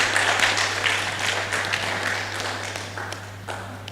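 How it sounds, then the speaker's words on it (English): An audience at a Rastafari conference claps in sustained applause, a dense crowd of hand claps that slowly fades over a few seconds, with a steady low hum underneath. "I think he deserves another round of applause."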